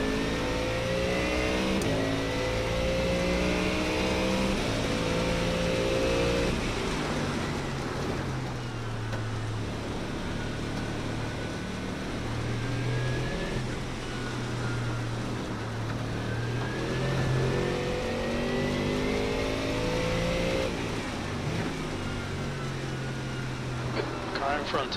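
An iRacing race car engine during the Creventic Spa 12 Hour drones steadily through upshifts, rising in pitch through the gears with brief drops between them, while someone talks over it.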